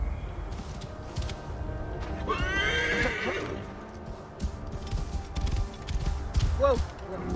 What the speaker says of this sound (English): Should we call our horse?